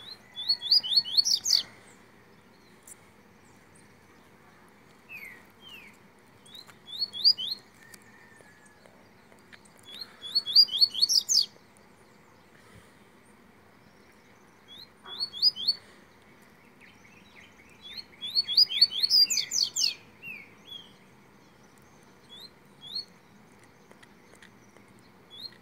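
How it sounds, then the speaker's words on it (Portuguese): A double-collared seedeater calls in the woods: bright, high chirping phrases arrive in about five separate bursts across the span, each several notes long. They sound fairly close, with quiet forest background between the bursts and no talking. "Tem um coleiro chamando aqui no mato."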